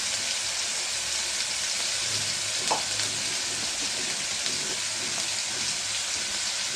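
Onion paste and spices sizzle steadily in hot oil while a dried fish curry is cooked, a dense, even frying hiss throughout with a brief utensil clink near the middle.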